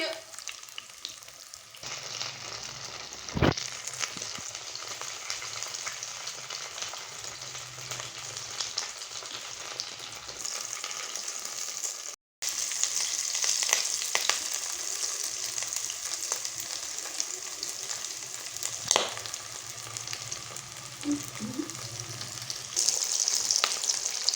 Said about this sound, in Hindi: शामी हमारे फ्राई हो चुके हैं।